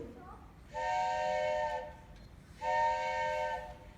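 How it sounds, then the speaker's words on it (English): Two long, clear blasts of a train whistle, each about a second, sounding moderately close against quiet background. "just then the train whistle blew"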